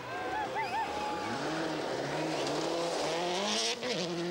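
Colin McRae's rally car cutting the corner at the 1997 Swedish Rally, its engine loud and close, revving up and down in sweeping surges with a brief tyre scrub, while a voice talks faintly underneath.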